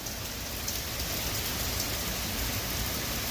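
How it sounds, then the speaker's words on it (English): Heavy rain pouring down in a downtown area during a thunderstorm, a dense, continuous hiss of drops hitting surfaces, loud and steady with no pauses and no voices. "Yeah, I think the rain's going to stop in a couple minutes, so."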